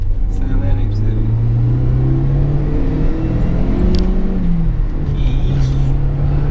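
Chevrolet Tracker 2.0 16V Turbo on the road, its engine pulling hard in second gear with a steady rising drone, loud and close from inside the cabin, with occasional voices in the car.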